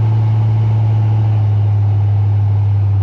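A truck engine runs while driving, a loud, steady low drone with a strong constant hum and engine rumble throughout, without speech.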